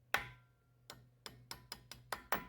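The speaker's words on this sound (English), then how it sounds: "take a hammer and just gently" Gentle hammer taps seat small micro wind turbine parts into place on a 750 watt unit, a single knock followed by a quick irregular run of about six sharp, close metallic taps over a low steady hum.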